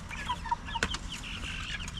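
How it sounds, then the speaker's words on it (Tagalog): Backyard chickens in a vegetable garden clucking, several short clucks and chirpy calls scattered across a couple of seconds, moderately close over light outdoor background noise. "yung mga manok natin di yata vegetarian"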